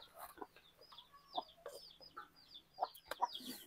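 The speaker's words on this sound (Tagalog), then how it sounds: "Nakawala yung mga manok ni tatay." Chickens loose outdoors give faint, scattered clucks, a handful of short calls spread across a few seconds over quiet background noise.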